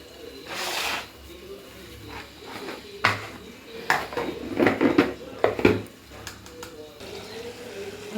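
Stirring cluster bean vegetables in a metal cooking pot, with a spoon scraping and clinking against the sides, then a lid clanking down, in a few sharp knocks over soft kitchen background.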